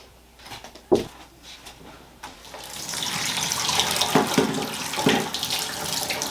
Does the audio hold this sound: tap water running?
yes